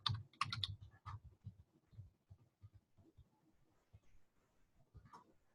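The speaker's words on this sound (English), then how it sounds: "when you type in mortgagecalculator.org" Fingers typing a web address on a computer keyboard, with a fast cluster of crisp key clicks at the start that eases into lighter, sparser taps, close and clear against a quiet room.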